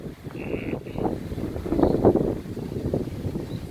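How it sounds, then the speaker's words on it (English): Wind blows outdoors near a tent at an RV campsite. It makes a steady, rumbling buffeting across the mic, swelling and easing in gusts without pause. "The wind is blowing."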